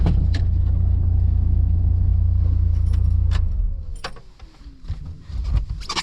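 A car rolls slowly along a country road at low speed, a steady low engine rumble close by that fades out, followed by clicks and light rattles.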